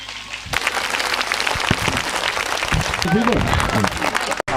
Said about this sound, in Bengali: এমন করতালি হওয়া চাই বাঁশের ঝাড়ের মাথায় যেন শালিক পাখি ঝুপঝুপ করে পড়ে। জোরে করতালি।